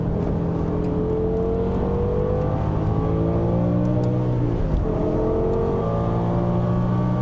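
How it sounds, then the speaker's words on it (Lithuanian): A BMW M5 E60 engine revs hard and accelerates at high rpm in a loud, continuous howl that climbs, dips briefly and rises again, with no talk over it. "Ant 8000 apsukų šitas variklis atgyja, leidžia gražų garsą"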